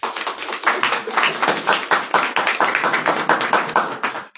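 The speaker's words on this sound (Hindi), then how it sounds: "खुदा के जलाल के लिए जोरदार ताली बजाएंगे।" Dense, sustained applause from a congregation at a Christian sermon, a steady wash of many hands clapping at once with no voices over it.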